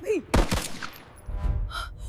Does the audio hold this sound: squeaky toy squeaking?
no